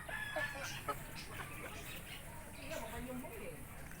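Backyard flock of native and bantam chickens, with brown-egg layers among them, clucking softly and steadily close by. Their calls are faint and sit over a busy outdoor background.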